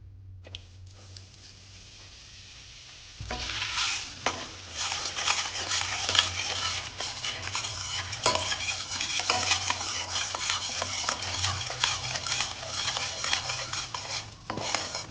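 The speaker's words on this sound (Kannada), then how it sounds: "ಇದನ್ನು ಕೈ ಬಿಡದಂಗೆ ತಿರುವಾಡಿಸ್ತಾ ಇರಬೇಕು ರೀ." Wheat flour roasting in hot ghee for Gurudwara-style kada prasad is stirred steadily in a pan, giving continuous scraping and rubbing strokes. A quiet low hum comes first, then close stirring that runs without a break and with no talk.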